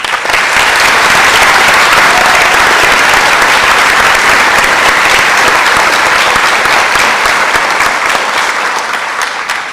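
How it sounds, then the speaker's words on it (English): Loud, sustained applause from a large crowd at an honors convocation, dense steady clapping filling the whole stretch without a break. "please give him a round of applause"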